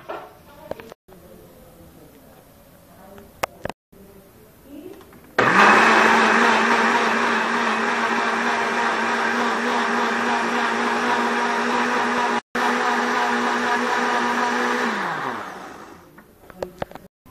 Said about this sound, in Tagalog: Tapos, i-blender natin.